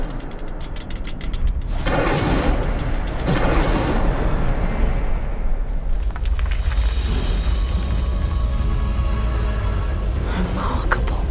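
Incendio fire spells blasting in Hogwarts Legacy, loud roaring bursts and booms in a dense continuous stream, with a few short bright crackles near the end.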